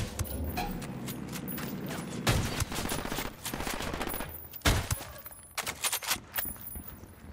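Rapid gunfire rattles through a Special Forces video game firefight, with two especially loud, sharp rifle cracks standing out amid the continuous bursts, close and dense.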